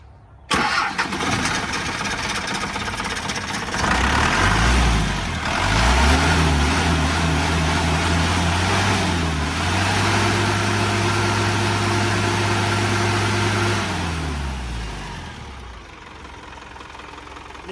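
A turbo engine on a boat cranks and catches, then settles into a loud, steady idle with a low droning hum that eases off toward the end.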